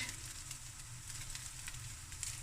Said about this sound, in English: Stir fry it a bit, and I'm going to take my seaweed.